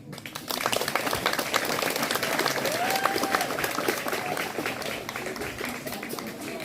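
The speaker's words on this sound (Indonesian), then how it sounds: "Tepuk tangan untuk itu." Audience applause at a school student council inauguration ceremony, a dense, even crowd clapping that swells in after a brief pause and continues steadily, with faint voices mixed in.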